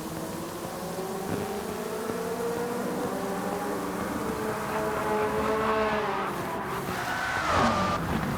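A race car in Gran Turismo 7 loses traction during an endurance race and slides sideways. The engine whines steadily while the tyres squeal in a drawn-out skid, with no talking.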